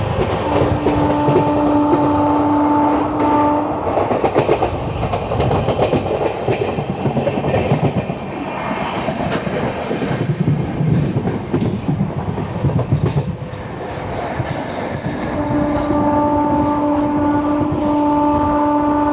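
The Kolkata–Guwahati Garib Rath Express rolls over the rails with a loud, steady rumble and rattle that lasts throughout. A horn tone sounds near the start and again near the end, and no one speaks.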